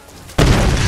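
A sudden loud explosion in the video game Tomb Raider bursts in after a quiet moment and holds as a dense, sustained roar through the rest of the moment.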